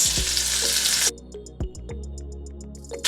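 Norwegian salmon fillet sizzles loudly in a hot pan, then a sharp clatter as it is flipped and a softer steady frying continues with occasional utensil taps.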